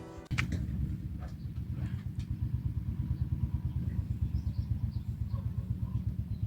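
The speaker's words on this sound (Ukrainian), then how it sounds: "Чуєте, друзі, вже поїхав наш трактор." A tractor engine chugs with a steady rhythmic throb after a short clatter as it drives away, running continuously at moderate distance with no voices.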